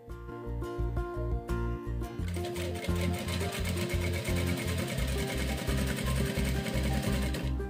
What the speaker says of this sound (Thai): เย็บอย่างนี้ค่ะเย็บให้สุดนี่เลย